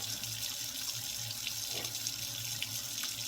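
Water from a tap runs in a continuous, fairly quiet stream with a steady splashing hiss and no talking.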